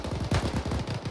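Automatic gunfire in the military shooter game Arma 3, a rapid string of about a dozen evenly spaced shots, somewhat muffled and distant, over a short burst.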